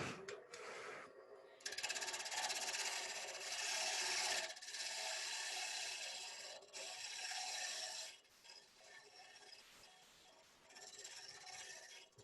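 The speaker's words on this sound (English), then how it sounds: "I'll just carry on with the spindle gouge." A spindle gouge cuts a wooden bowl spinning on a lathe, a continuous hissing, rasping shear that swells and eases as the tool moves, fairly close and moderately loud.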